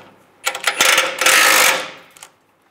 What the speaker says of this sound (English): We have to take these two bolts out on each side, the nuts and bolts, using a 21 millimeter wrench on the backside and a 21 millimeter socket.